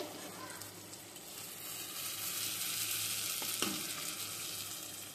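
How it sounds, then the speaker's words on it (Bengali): Hilsa fish fries in hot oil in a pan, giving a steady, close crackling sizzle with a few faint stirring scrapes. "তো মাছটা হয়ে গেছে, ভাজা ভাজা হয়ে গেছে,"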